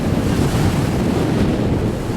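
Strong wind at a beach resort during a tropical storm, buffeting the microphone in a dense, steady roar with surf rumbling underneath and no voices.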